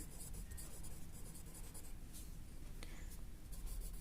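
Marker writing a chemical name on a board during a chemistry lesson, rapid scratchy squeaks and taps running steadily over a noisy, humming room, with occasional faint speech.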